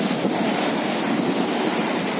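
The flooded Palar river near Ambur rushes past after heavy rain, a loud, steady roar of turbulent water with wind buffeting the microphone.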